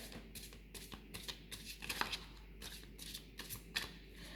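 A deck of tarot cards is shuffled by hand in a run of quick crisp riffles and slaps, close and moderately loud, with short pauses between bursts.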